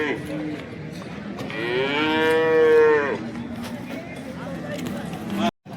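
A cow gives one long, loud moo close by at a cattle market in Sangola, sustained for over a second before trailing off, with background voices and farm noise around it.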